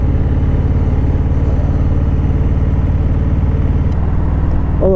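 A nearby Alpina car's engine hums with a steady, throbbing low note as it rolls past, the pitch shifting slightly near the end.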